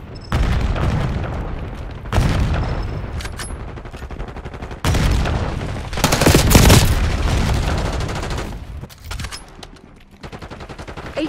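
Gunfire in Call of Duty: Black Ops 6 multiplayer on the Babylon map, loud bursts of automatic fire and heavy booms in several intense spurts with short pauses between them.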